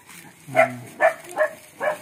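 A dog nearby gives four short, whimpering barks or yelps in an uneven rhythm, each distinct and moderately loud over a quiet background.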